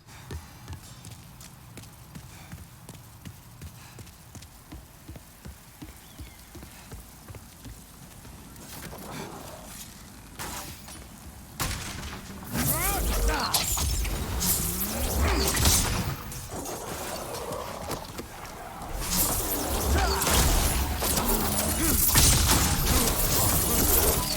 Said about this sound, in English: Run over this pressure plate and get out of the way to not get pelted with bolts.